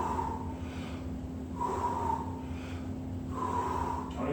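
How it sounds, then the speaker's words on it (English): Slow, deep breaths during a squat-based energizing workout, three long airy inhale-exhale cycles close to the mic, rhythmic and unhurried over a low steady hum, no talking. "long deep breath in"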